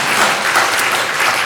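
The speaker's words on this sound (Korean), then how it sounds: "박수 한번 하겠습니다" A church congregation applauds to welcome a newly arrived family during a morning harvest-festival service, a loud, close, continuous burst of clapping throughout.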